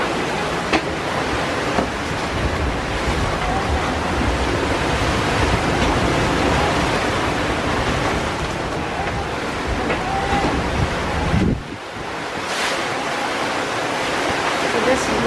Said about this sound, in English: What these big waves look like. It is like it's never ending.